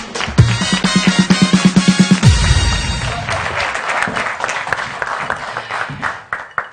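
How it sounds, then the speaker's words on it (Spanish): A studio audience bursts into applause after a brief musical sting, the clapping swelling then thinning into scattered claps before a voice begins. "Un aplauso"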